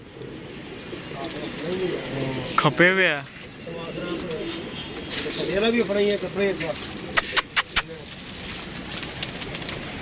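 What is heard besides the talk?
pigeons cooing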